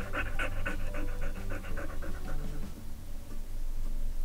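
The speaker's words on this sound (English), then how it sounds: "Here's a dog sound." A Google Home smart speaker plays a dog sound: rapid rhythmic panting in short repeated breaths, close and fairly loud, fading toward the end.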